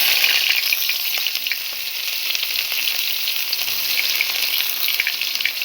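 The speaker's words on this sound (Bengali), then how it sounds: "এবার দিয়ে দিচ্ছি পেঁয়াজ।" Onions frying in ghee in a wok give a loud, steady, bright sizzle and fine crackle throughout, very close, with no talking.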